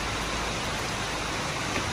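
Steady rain falling outdoors at a pigeon loft, an even, continuous broadband hiss at moderate level with no voices.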